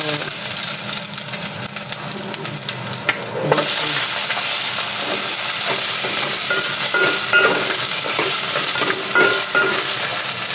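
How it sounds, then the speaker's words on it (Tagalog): Onion and tomato are sautéed in a pan with fatty pork, making a loud, continuous sizzle that jumps up sharply a few seconds in and stays bright, with intermittent stirring scrapes. "Ngayon, magsusutay na tayo ng ating onion and tomato."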